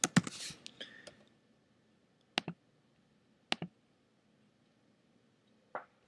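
Crisp computer mouse clicks while posting a form: a quick flurry at first, then isolated single and double clicks spaced a second or more apart, close and quiet against a silent room.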